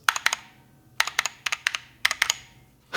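Mechanical switches clack on an Ultimate Hacking Keyboard with blank keys as someone types in quick bursts of sharp, close keystrokes, three or four clicks at a time separated by brief pauses, with no voices.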